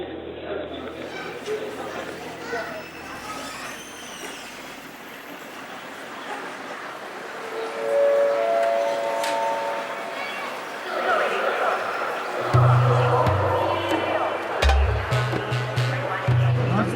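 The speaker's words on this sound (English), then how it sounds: "We are at the Urumqi train station, about to try and get out of the city." Busy concourse at Urumqi train station, with crowd chatter and a few raised voices, a brief tonal announcement chime, and a low rumble and mechanical thumps from trains toward the end.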